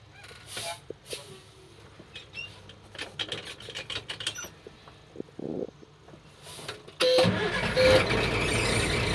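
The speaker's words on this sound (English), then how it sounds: "start up my truck and let it come back to my maximum cutout" Quiet cab clicks and shuffling lead into a heavy truck's engine starting near the end, settling into a loud, steady, broad rumble as it idles to build air brake pressure.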